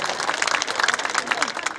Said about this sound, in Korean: 박수 크게 보내주십시오